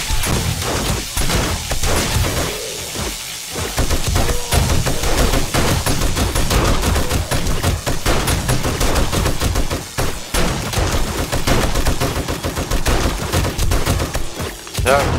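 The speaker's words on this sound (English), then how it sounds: "That would be an M60 for all its faults. Sure does lay down some serious fire." An M60 machine gun in 7 Days to Die fires loud, sustained automatic bursts, rapid shots rattling almost nonstop with brief gaps, over crashing impacts.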